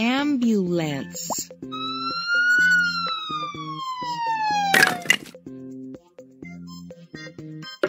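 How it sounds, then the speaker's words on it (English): A cartoonish ambulance siren with rising and falling synthesized wails in a kids' vehicle puzzle game, set against bouncy musical plops and a sharp crack, loud and close. "Ambulance."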